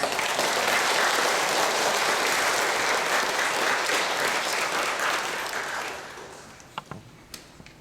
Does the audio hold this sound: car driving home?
no